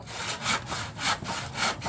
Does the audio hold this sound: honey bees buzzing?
no